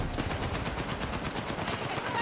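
Rapid machine-gun fire rattles in a video game, a dense burst of shots at a steady fast rhythm, with voice chatter faintly mixed in.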